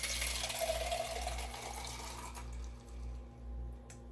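Apple cocktail poured into a cinnamon-sugar rimmed glass, a soft steady liquid trickle over a low background hum, fading out after a couple of seconds.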